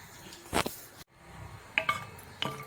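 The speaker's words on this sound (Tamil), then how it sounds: "முந்திரி பருப்பு இதில் ஆட் பண்ணுறேன்." Cashew nuts dropped into hot ghee in a pan while sweet aval is prepared, giving a few soft clinks and short sizzling bursts, close by and fairly quiet.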